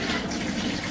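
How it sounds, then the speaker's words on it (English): A kitchen tap runs steadily during washing up at home, a continuous, moderately loud rush of water that fills the moment without any talk. "you actually can hear the water running"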